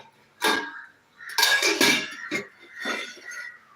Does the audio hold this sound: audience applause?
no